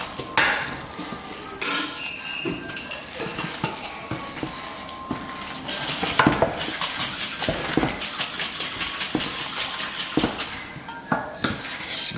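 Smoked pulled pork gets tossed with apple cider vinegar in a metal pan, utensils scraping and clattering in quick irregular bursts, close and fairly loud, with no one speaking.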